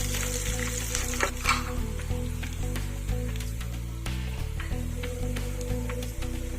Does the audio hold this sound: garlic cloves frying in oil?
yes